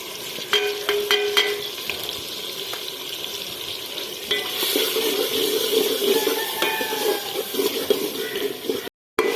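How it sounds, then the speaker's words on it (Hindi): Spices with Kashmiri red chilli, turmeric and salt fry in a pan for an aloo anda curry, giving a continuous close sizzle with occasional clinks and scrapes from stirring and no speech. "1-2 मिनट के लिए मसाले को इस तरीके से भून लेंगे।"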